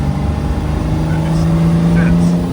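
A 1967 Austin-Healey 3000 Mk III 2+2 in British Racing Green accelerates with a loud, close, steady mid-pitched engine drone that climbs slightly. Wind rumble and voices sit faintly underneath.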